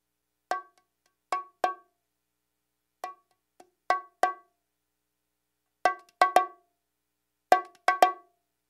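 Bongo groove played alone with sharp, close hand strikes in short clustered figures, louder accented hits mixed with softer ghosted notes separated by brief pauses.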